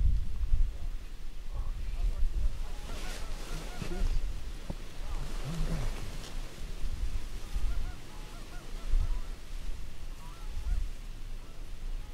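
Geese honking around decoys during a goose hunt outdoors, scattered calls rising and falling over several seconds amid wind and low rumble, with people talking nearby.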